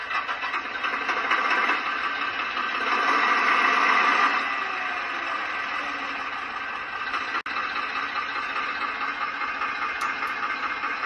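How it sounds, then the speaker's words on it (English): A Maxitrak 5 inch gauge Brush model locomotive's sound system hums with a steady diesel-like engine drone that rises as it revs, holding level with a faint click partway through. "as the wheels start to move, the sound system starts to rev up as well"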